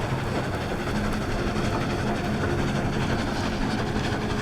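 A train rolls along steadily in a video game, a dense, continuous rumble with a clickety-clack rhythm that stays loud and close throughout, with no talk over it.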